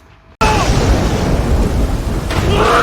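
A sudden heavy downpour with thunder and a lightning strike in a scene from the film The Wailing: silence breaks into a loud, dense roar of rain and rumbling thunder that carries on to the end.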